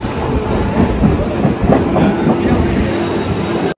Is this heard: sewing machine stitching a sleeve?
no